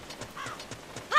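In the Ocarina of Time video game, the horse Epona gallops in a fast, regular beat of clip-clop hoofbeats, with a brief whinny-like tone midway and a sharp effect at the end.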